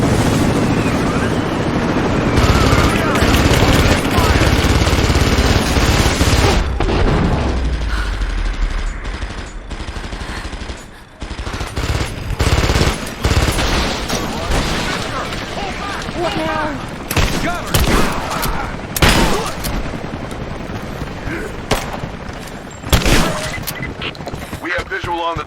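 Gunfire rattles through a firefight in the video game Rise of the Tomb Raider. A dense, loud barrage blends with booming noise, then gives way to scattered sharp shots and bursts over a rough background.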